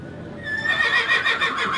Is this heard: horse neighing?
yes